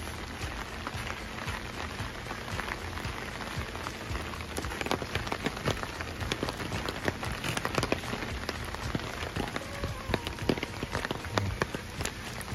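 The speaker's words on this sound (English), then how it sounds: "A bit of rain, it don't stop you, does it?" Heavy rain falling steadily at a very wet caravan club site, a dense, continuous patter of drops drumming on surfaces nearby, with no talking.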